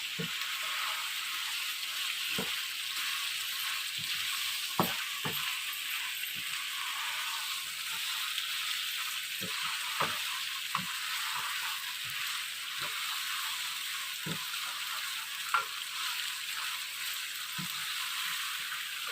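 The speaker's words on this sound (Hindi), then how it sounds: "और इसके साथ ही टमाटर ऐड कर दूंगी। इन्हें अच्छे से मिक्स करूंगी।" Chopped tomatoes with spices sizzle and fry steadily in a pan for achar gosht, while a spoon stirs them with scattered scraping knocks against the pan throughout.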